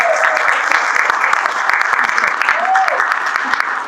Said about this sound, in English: let's give her husband Raj an even bigger round of applause